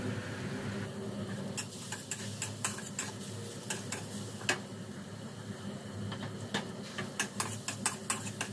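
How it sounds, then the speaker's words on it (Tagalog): Onions and garlic frying in a pan while cooking Bacolod-style arroz valenciana: a steady low sizzle with scattered light clinks and stirring taps, close by, no voices. "I-fry na natin yung ating sibuyas at garlic."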